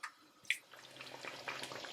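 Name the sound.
pouring water into chicken karahi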